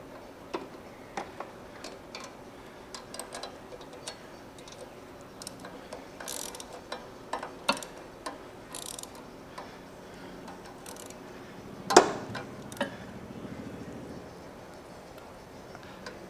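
Ratchet tightening a carburettor part on a 1969 VW Beetle with a 1600cc engine and dual 34 carbs, quick irregular clicking bursts of the pawl, close, with a louder clank near the end.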